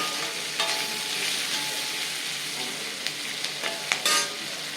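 Sliced large onions sautéing in a pan give a steady close sizzle, punctuated by several sharp spatula knocks and scrapes toward the end, with no speech.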